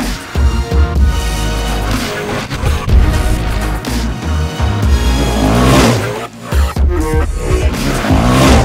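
A 2016 Yamaha WR450F dirt bike engine runs loud and steady for the whole stretch, surging and revving as it is ridden, with brief dips in between.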